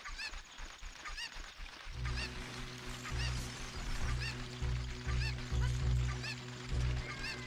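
Cucco chickens in Zelda Ocarina of Time 3D cluck and squawk in repeated short calls over a steady game background hum, fairly close.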